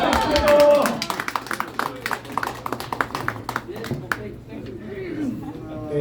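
An audience at a presidential candidates' meeting claps in a burst of distinct individual claps that thin out and fade, with talking and chatter underneath.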